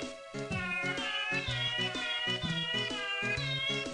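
Repeated cat meows in a quick series of short, tonal cries, clear and close, layered over a steady musical backdrop with no talking.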